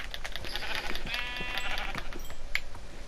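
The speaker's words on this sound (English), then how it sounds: "The trifecta of sheep." Minecraft sheep bleat repeatedly over a steady game background, the bleats close and fairly loud with no talking.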